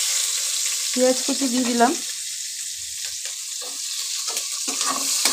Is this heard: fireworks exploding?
no